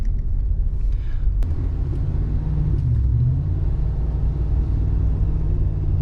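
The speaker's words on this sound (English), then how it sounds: "Ah, yes, I love spinning the tires." A small car on street tires spins its wheels in snow, giving a loud, steady, close engine rumble with a rising rev near the middle and no talk.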